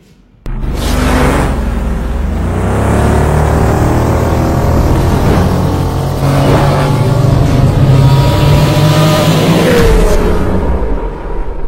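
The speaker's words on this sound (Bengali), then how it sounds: "এই যে ইয়ামাহা" A Yamaha MT50 version 2 motorcycle in fresh, nearly new condition, its engine starting up and revving loudly and steadily for about eleven seconds, with pitch rising and falling through several throttle blips, close by with no talk.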